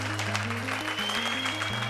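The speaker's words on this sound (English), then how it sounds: "So why don't you give him a round of applause?" A crowd claps steadily throughout at an outdoor Hipcamp Leave It Better event in New York, with a sustained musical tone and shifting notes playing underneath.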